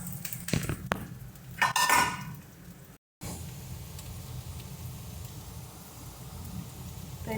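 Onions tipped into a hot pan and stirred, giving sharp metallic scrapes and clinks of a utensil against the pan over a steady soft sizzle, with a brief gap partway through.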